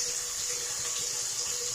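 Water is poured into a cooking pot for rice, a steady, even hissing rush that stays constant throughout at moderate loudness, with no talking.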